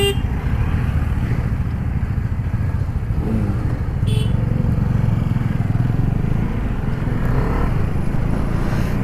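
Motorcycles idling and running together on a road as a bike-riding group gathers for a Republic Day ride, a steady loud engine rumble throughout with no clear revving peaks.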